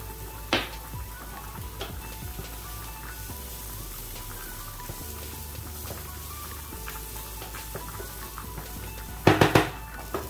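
Onions and garlic sweat in a pan for spaghetti bolognese, giving a low, steady sizzle that runs throughout, with a faint clink near the start and a brief clatter of utensils toward the end.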